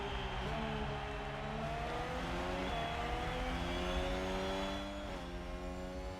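Formula One race car engines in the F1 Manager 2023 video game whine and rev loudly and continuously, pitch climbing in repeated surges as gears shift several times, with no talk over them.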